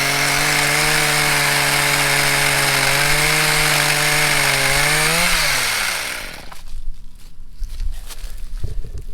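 An Echo PPT2620H gas pole saw cuts a tree branch with a loud, steady two-stroke engine buzz. Its pitch sags as the chain bites, then it idles down after about six seconds, leaving faint outdoor rustling.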